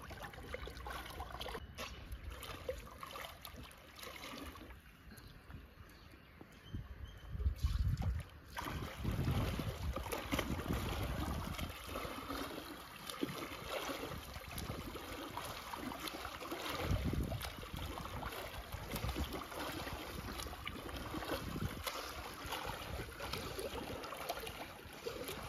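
A swimmer wearing long, wide swim fins churns the water, sending soft, continuous splashing and sloshing through gusts of wind noise at a fairly faint level.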